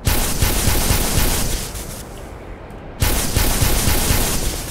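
Continuous rapid automatic gunfire in Black Mesa, loud and dense, breaks off for a moment and then resumes just as hard.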